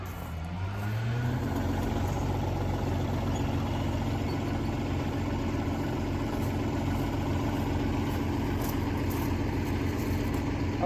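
Kubota L3901 compact tractor idling steadily with its PTO engaged, driving a Land Pride RCR-1260 rotary brush hog on a hillside; a continuous close engine drone and mechanical whir rises in the first second, then holds constant.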